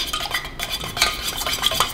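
Melted wax for wax melts is stirred in a container, with short, uneven scraping strokes and small clinks of a utensil against the sides over a couple of seconds.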